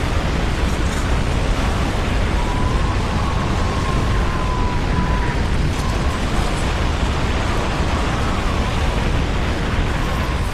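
A tornado roars like a freight train, a loud continuous broadband rumble with no pauses that stays steady and dense from start to finish.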